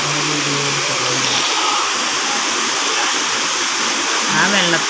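The Vattayi waterfall roars as a loud, continuous broadband rush of falling water close by, with a voice briefly audible over it at the start and end.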